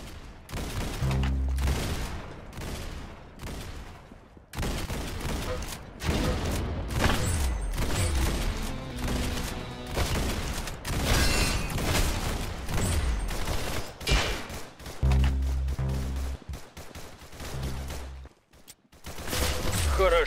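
Rapid gunfire in the Roblox shooter Arsenal, dense bursts of loud sharp shots in quick volleys with brief gaps, continuing for most of the stretch.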